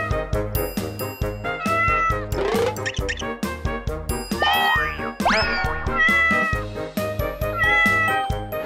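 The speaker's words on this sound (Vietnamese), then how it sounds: "Chú mèo xinh quá." A cartoon cat meows in short, bright calls over a busy, loud music bed with jingles and boings in a paper-doll crafting game.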